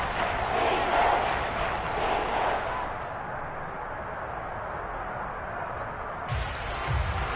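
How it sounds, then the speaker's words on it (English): Dense football stadium crowd noise at a Ravens game on third down, a loud sustained roar that swells early, then holds steady with a few sharp thumps near the end. "That just means this crowd's going to get even louder"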